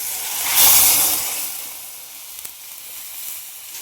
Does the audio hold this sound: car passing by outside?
no